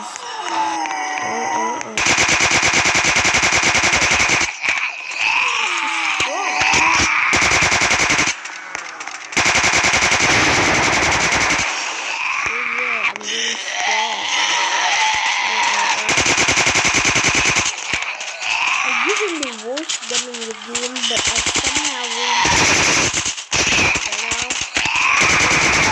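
Machine gun fire in the Zombie Uprising video game: loud, nearly continuous rapid shooting in long bursts broken by short pauses, with game sounds and faint talk mixed in.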